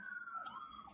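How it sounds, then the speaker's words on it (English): An emergency vehicle siren passing outside wails steadily in a sustained, slowly gliding tone, heard faintly at a distance. "oh, here comes Siren."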